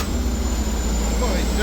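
A 1200bhp racing truck brakes hard into a hairpin at the Pembrey circuit, a loud, close, continuous rumble of engine and road noise, with a voice talking over it.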